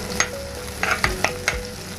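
Crushed garlic and ginger frying in hot oil, a steady close sizzle with four or five sharp clinks and scrapes of a spoon against the pan, no talking.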